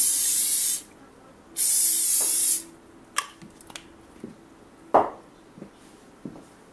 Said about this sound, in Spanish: le voy a poner un poquito de este spray, nada más para prevenir que se nos vayan a pegar